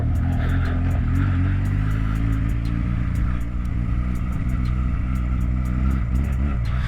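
A Honda Rebel 125 motorcycle engine idles steadily after starting, a close, continuous low rumble with an even tone throughout and no voices.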